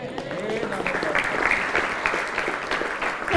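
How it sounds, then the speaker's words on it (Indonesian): A crowd at an Islamic boarding school gathering in East Kalimantan claps steadily in a brief, even burst of applause, fairly close and full, with faint voices mixed in. "Yang tepuk tangan aja nggak tahu alasannya."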